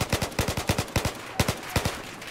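Rapid bursts of automatic gunfire from a gun in the video game Battlefield 4, sharp evenly spaced shots cracking out in quick volleys with brief gaps, loud and close.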